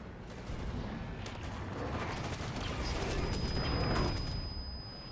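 Turrets fire in the Halo 5: Guardians video game, a dense, continuous rattle of rapid gunfire that swells slightly, moderately quiet and heard without speech.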